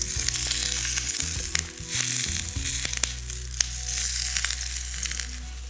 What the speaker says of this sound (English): So how long does this need to fry for?